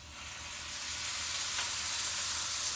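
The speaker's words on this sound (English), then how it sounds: "starts to sizzle" Braised eggplant soaked in olive oil sizzles in a pan, a soft, steady hiss of frying that slowly grows a little louder, heard close and alone.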